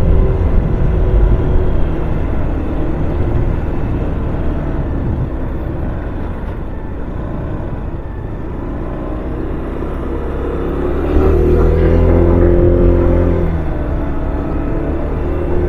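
Motorcycle riding a winding mountain road at Bessang Pass, Cervantes, Ilocos, a steady low engine drone and wind rumble with a swell of revving near the end.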